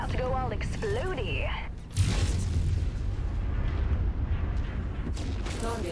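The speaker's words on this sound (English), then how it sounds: "It's about to go all explodey." A destroyed mech bursts apart in a MechWarrior battle, a heavy booming blast erupting midway and rumbling on amid mechanical clatter and continuous combat noise.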